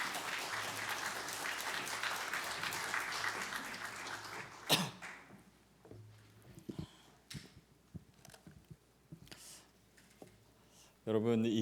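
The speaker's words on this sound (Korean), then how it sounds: "우리 권혁규 목사님 나오실 때 모두 환영의 박수로 기쁘게 맞아 주시겠습니다" A church congregation at an evening revival meeting claps warmly to welcome the pastor. The applause lasts about four seconds and cuts off sharply, followed by a quieter room with scattered coughs and small noises.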